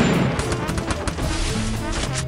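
Rapid gunshots and bursts of fire ring out in a shooting video game, loud and continuous with crashing impacts layered through the short stretch.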